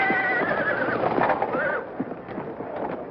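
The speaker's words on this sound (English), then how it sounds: "Who's that black horse acting up?" A black racehorse at the starting gate whinnies loudly and stamps about, its neighs close and rising over a busy crowd murmur, with hoof knocks and a final fainter whinny.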